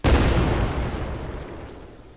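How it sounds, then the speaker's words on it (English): A single loud, close video game explosion with a deep booming onset that rumbles and fades away over about two seconds. "The first one will be with the particle effect, which should be an explosion."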